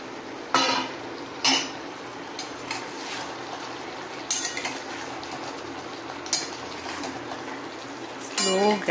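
A spoon clinks against a pan as yogurt is added and stirred into green chicken curry cooking over a low flame, a few sharp metallic taps and scrapes spread out over a soft background hiss.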